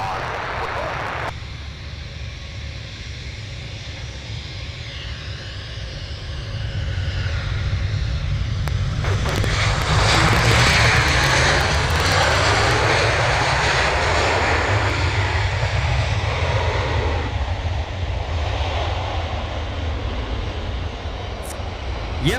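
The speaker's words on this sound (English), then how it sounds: "Velocity 1419 service coming in from Sydney now. About to join us here at runway 15." Velocity 1419 airliner arriving from Sydney onto runway 15 at Cairns Airport, a long swelling jet roar that builds from a distant rumble to a loud rushing pass and then slowly fades, with voices speaking over it.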